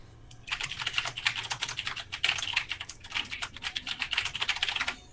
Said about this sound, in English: your keyboard is just I love it. it's terrible. It's so It's so loud.